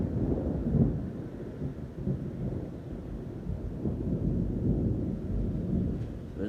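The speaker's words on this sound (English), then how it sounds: "You will hear the thunder, listen." Deep rolling thunder during a thunderstorm in New South Wales, a low rumble that swells and fades over several seconds against rain and some wind buffeting on the microphone.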